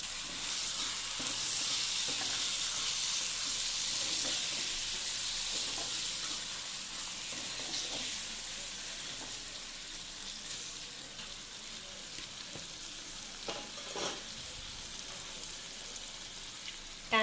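Tomatoes sizzle and fry in a pan for sev usal, with a steady close hiss and occasional scraping stirs throughout, no talking.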